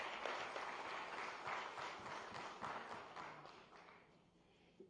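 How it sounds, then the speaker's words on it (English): Audience applause welcoming a keynote speaker at a state government MoU signing event with companies, steady moderate clapping from a crowd that fades out toward the end, heard fairly distant. "Please welcome sir with a round of applause."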